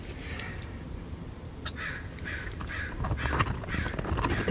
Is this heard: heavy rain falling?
no